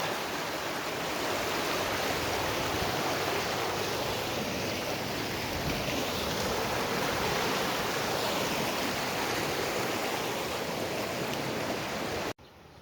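Floodwater rushing over a flooded banana farm, a steady, loud broadband roar of moving water that holds unbroken throughout and cuts off abruptly at the very end.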